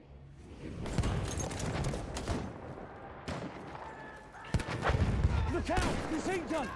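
Pistol shots ring out in Battlefield 1 gameplay, several sharp cracks amid scattered battlefield gunfire and distant explosions, while someone talks over the action.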